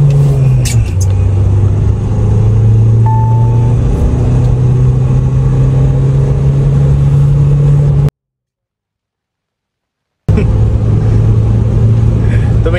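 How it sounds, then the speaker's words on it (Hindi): A modified 2023 Mahindra Thar pulls hard from second gear on the Delhi–Mumbai Expressway, its engine droning loud and close with a steady rising tone, while someone talks over it and the sound briefly cuts out. "सेकंड गियर से पिकअप मार रहा हूँ ठीक है।"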